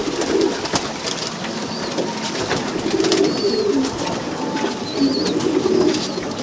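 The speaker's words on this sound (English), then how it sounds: "I have a lot of rescued birds inside this coop" Rescued pigeons coo softly and repeatedly inside a coop, several birds murmuring together at close range, with occasional light rustling.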